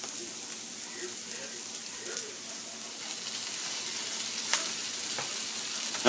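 Chicken empanada filling with cilantro and pepper jack sauce sizzles gently in a hot pan, with a soft steady frying hiss and faint stirring sounds, no talk.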